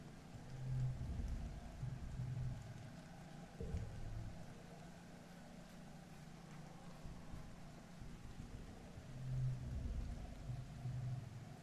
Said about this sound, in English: Tammy twirls her umbrella and extends a tentative hand out to feel the cascading rain